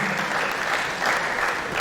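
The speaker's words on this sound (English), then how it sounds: "A bigger round of applause for Professor Bolaji Kajim." Steady, dense audience applause fills the hall at a Department of Estate Management alumni reunion, a continuous wash of many hands clapping at even loudness with no break.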